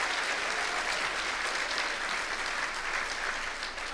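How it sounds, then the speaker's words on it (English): A conference audience claps at the close of a business session: a steady, dense wash of applause from a large crowd, even and sustained throughout with no single claps standing out. "give a big shout out and clap here"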